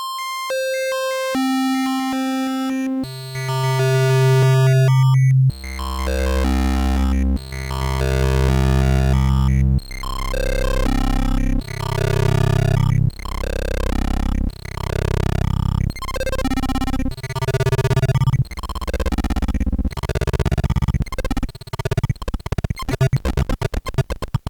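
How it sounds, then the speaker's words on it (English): A Kodamo Mask1 synthesizer tone steps through a long series of bit-mask settings with shifting timbres, starting thin and pure, turning buzzy and harsh, then stuttering rapidly at the end. "I will use the encoder, the value encoder, to scroll through the bit masks"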